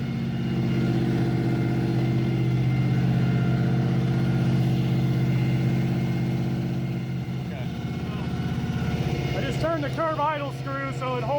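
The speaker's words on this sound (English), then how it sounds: "This is always the most frightening part of an engine fire up is the cam break in." A Ford Mustang engine, damaged and parked for over ten years, runs at a steady 2,000 RPM during cam break-in with an even, droning hum, and a voice comes in near the end.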